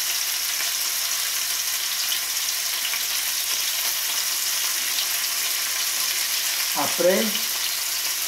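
Floured beef sears in a hot pan for a beef sauté, giving a steady, loud, broadband sizzle throughout, with a brief clatter near the end and a few quiet spoken words.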